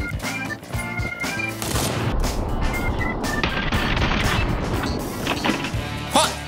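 Grenade blast and gunfire in the battle royale video game PUBG, a dense loud stretch of booming and rapid shots with crackling debris, closing on a couple of sharp isolated hits.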